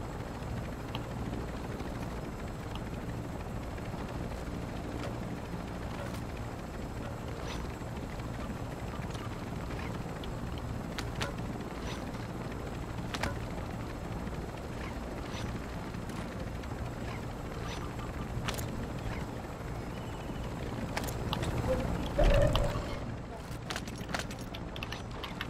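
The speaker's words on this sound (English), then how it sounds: "Helicopter." A helicopter in a battle royale video game drones with a steady rotor hum in the background. Players talk over it, and a brief louder swell comes near the end.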